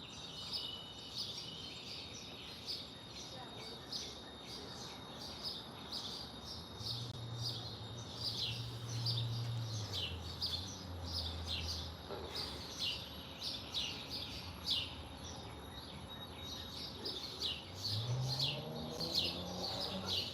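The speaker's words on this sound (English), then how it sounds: "let y'all hear the birds because they're beautiful" Many birds chirp and trill continuously outdoors, overlapping calls at moderate volume, with a low hum or distant rumble appearing briefly partway through.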